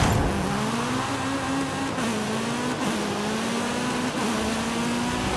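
A Renault Mégane R26.R racing in Forza Horizon 5 on a retro street course: a loud, close engine holds a steady high drone with small dips at gear shifts across a few seconds, no voices.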